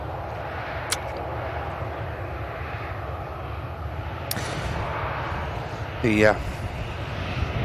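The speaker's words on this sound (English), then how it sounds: "Scandinavian Neo aircraft is now just lining up on 23 right" A Scandinavian airline A320neo-family jet lines up on runway 23 right at Manchester Airport, its engines a low, steady distant rumble under continuous talking, with a couple of sharp clicks and a brief whistle-like sweep.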